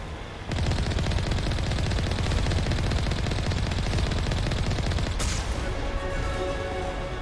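Loud, sustained automatic gunfire from the video game Mass Effect 1 Legendary Edition rattles in a dense, rapid stream after a brief quiet start, with a sharp shift in tone near the end.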